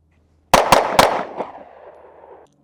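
A Jacob Grey Hex pistol fired in a Mozambique drill at a range: three sharp, loud shots in quick succession, then a fainter fourth shot, with echo trailing off afterward.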